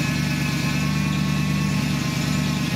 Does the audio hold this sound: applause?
no